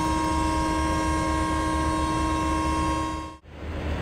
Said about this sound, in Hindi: यहाँ पर हम लोग डिपार्ट कर दिए हैं Guwahati railway station finally with a superb Hong bye EMD WDP4 Siliguri shade